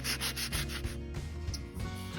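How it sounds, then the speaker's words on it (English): Wooden chair legs being sanded by hand with 80 grit sandpaper, a close, rough scratching in quick back-and-forth strokes, about five rapid rubs followed by a couple of longer drawn passes. "We're using some 80 grit sandpaper. We are going to work on sanding the legs."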